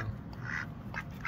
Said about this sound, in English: Does the duck bite you?